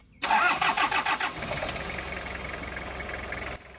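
A Toyota Qualis 2.4 litre diesel engine cranks with a quick run of rhythmic starter pulses, then catches and settles into a loud, steady idle close by before cutting off abruptly.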